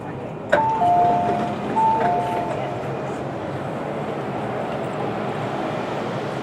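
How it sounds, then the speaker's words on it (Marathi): Hong Kong metro train doors opening: a pair of bright electronic chime tones sounds over the steady rumble of the carriage, then the low background noise carries on alone. "आता डोअर्स ओपन होतील"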